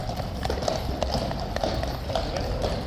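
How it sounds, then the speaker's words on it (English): Life Guards horses clip-clop steadily on a hard street as they arrive, a continuous rhythmic patter of hooves with light voices and outdoor noise in the background. "Final lifeguard horses arriving."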